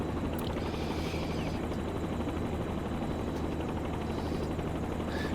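Steady, close drone of a training helicopter after an in-flight engine restart, dense low rotor beat and turbine whine filling the short stretch evenly, no voices on top.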